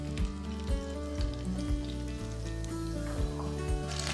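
Two tablespoons each of oil and butter sizzle steadily in a pan for a white qeema karahi, a continuous close frying hiss with a low hum beneath it.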